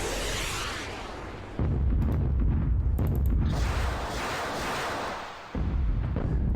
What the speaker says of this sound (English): Let's give them some rocket fire here.